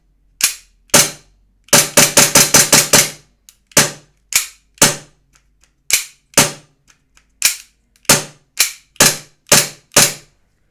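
Pistol shots fired while testing a green dot sight for recoil ring out loud and close, a single shot, then a rapid burst, then evenly spaced single shots with clean silence between them.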